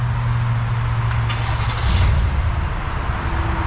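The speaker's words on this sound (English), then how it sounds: "so let's listen to that V8" A 2023 Cadillac Escalade Premium Luxury 4WD's V8 engine idles after a remote start, a steady low rumble with a brief louder surge near the middle, heard up close and without speech.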